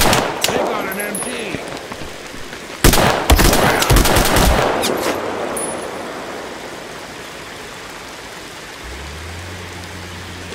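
Machine-gun fire in the game Mud and Blood, a loud run of rapid shots in the first half that fades away, leaving a soft hiss like rain and a low hum.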